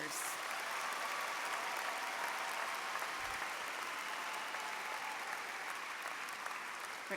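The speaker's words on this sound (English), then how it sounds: "Please give a round of applause to award winners" Sustained, even applause from a commencement audience honoring award winners at a school district graduation ceremony, a soft, distant-sounding wash of clapping that holds steady throughout without speech.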